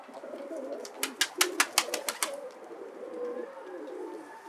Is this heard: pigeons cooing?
yes